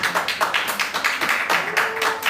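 An audience claps in a steady, quick rhythm for a diva contestant on a Haitian competition show, the clear claps close and loud and filling the whole moment without talk.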